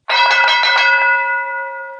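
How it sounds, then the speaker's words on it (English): A single bell is struck once to signal a topic switch, ringing bright and loud with a slight pulsing shimmer before slowly fading away. "When the bell rings, they switch to the other topic."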